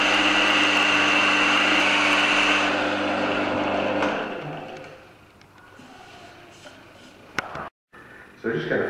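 A lathe sands down a wooden turning with stone inlay, giving a steady loud abrasive whir for about four seconds. It then winds down and fades, leaving faint scrapes and brief knocks.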